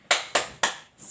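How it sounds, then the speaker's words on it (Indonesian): Three sharp, evenly spaced claps from a group of kindergarten children in a classroom, a rhythmic spirit clap led by the teacher, loud and close with no talk over it. "Tepuk semangat."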